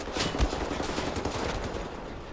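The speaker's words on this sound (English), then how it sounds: "this is now a laser gun" A laser Gatling gun firing in the video game Wolfenstein: The New Order, a fast continuous rattling burst of rapid shots held at a steady, fairly quiet level throughout.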